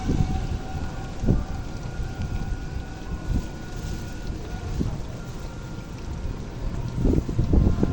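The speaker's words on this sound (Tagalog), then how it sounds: "Ulan pa rin." Heavy, constant rain pours down during a storm near a flooding river, with several dull thunder rumbles rising above the steady wash.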